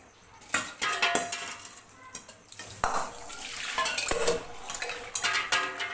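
An iron kadai, already scrubbed, is rinsed clean, with close metallic clanks and scrapes of the wok mixed with splashing water in uneven bursts.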